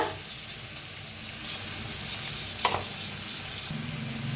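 Roasted ghevda beans stirred into a sizzling vegetable dish in a pan, a steady soft frying hiss with a single clink of the spoon against the pan midway.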